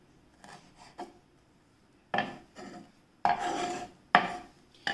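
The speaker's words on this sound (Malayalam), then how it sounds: "ഇതുപോലെ ചെറുതായിട്ടൊന്ന് കട്ട് ചെയ്തെടുക്കാം." A knife chops celery finely on a cutting board, sounding as sparse crisp crunches and short scraping bursts at close range, with irregular pauses between strokes and no speech.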